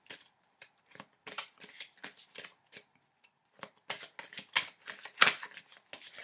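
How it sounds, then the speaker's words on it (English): Tarot cards are shuffled in quick crisp riffles and bursts of flicking, close and fairly quiet, with short pauses between rounds. "let me start shuffling, and I will pull 3 cards"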